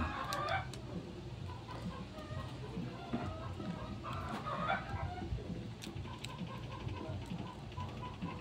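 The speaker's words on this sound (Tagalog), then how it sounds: "Ang ingay ng manok sa taas" Chickens cluck from upstairs above a repair workspace, faint and somewhat distant, with intermittent clucks and calls over a low background hum and occasional voices.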